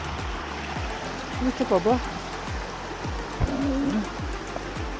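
A stream of water flows along a waterfall trail near Alitap Falls in Mauban, Quezon, a steady rushing wash. Brief talk and some footfall-like knocks sit over it.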